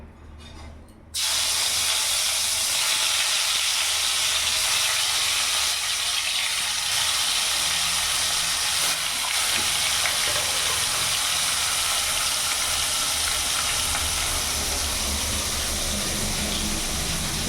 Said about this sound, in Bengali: তেল গরম হয়ে গেছে এবার মাছগুলো এক এক করে ছেড়ে দেবো